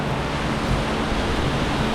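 Steady, broad wind noise roars continuously, loud and close, buffeting the microphone with no other sounds, on a rainy-season road trip in La Union, Philippines.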